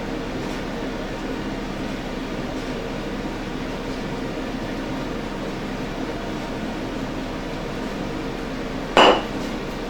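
Ham and egg pie filling with fresh parsley being mixed in a bowl, a steady, even scraping churn that carries on throughout, with one sharp clink near the end.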